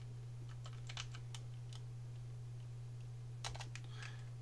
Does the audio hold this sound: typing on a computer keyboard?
yes